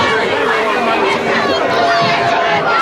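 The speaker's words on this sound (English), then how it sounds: "The Glassboro crowd doesn't like it" A high school football crowd at the 2007 Glassboro vs. Paulsboro South Jersey Group 1 final murmurs and reacts with a dense, continuous babble beneath a commentator's talk after a holding penalty.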